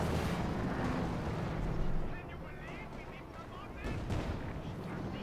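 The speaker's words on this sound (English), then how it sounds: "Return shot on the Panther 4." Tank cannon fire from a Panther IV in Company of Heroes 2 booms out in heavy, rumbling blasts with distant battle noise, loud at first and then easing, under a commentator's voice.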